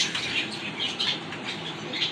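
Domestic pigeons, including high-flyer breeds, flutter and shuffle in a crowded Bangladeshi pigeon market, giving a steady soft rustle of wings with faint chirps and coos mixed in, moderately close and without talk.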